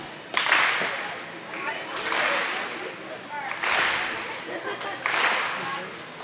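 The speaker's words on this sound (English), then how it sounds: "Getting everybody clapping" An indoor track meet crowd claps in slow, rhythmic bursts during the high jump, about every one and a half seconds, swelling and echoing through the hall while people talk over it.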